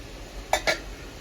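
A pot of lentil dal with jute leaves is lifted off a home kitchen stove: two close, sharp metallic clinks of pot and utensil, a beat apart, over a quiet background.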